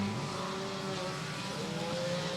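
4-cylinder race cars at Beckley Motor Speedway hold a steady, droning engine roar, with pitches shifting slightly as they circle the track at a moderate distance.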